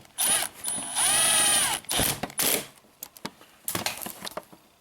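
A power tool whirs in several bursts while driving the original bolt back into a Hyundai, with a long sustained whine followed by shorter clicks and ratcheting bumps, fairly close.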